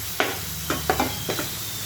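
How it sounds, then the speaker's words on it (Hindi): Tomatoes frying in oil for red masoor dal, a soft steady sizzle under several quick stirring scrapes and clicks of a utensil against the pan. "टमाटर अच्छे से भुन गए हैं और उसका तेल भी छूटने लगा है"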